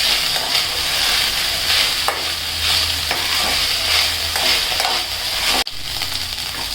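Rice fried and stirred in a pan for colored pulao, a steady sizzle with scraping spoon strokes running throughout at close range, with no talking.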